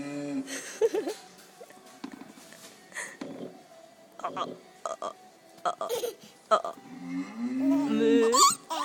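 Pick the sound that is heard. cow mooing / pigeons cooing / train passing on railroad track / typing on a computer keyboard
cow mooing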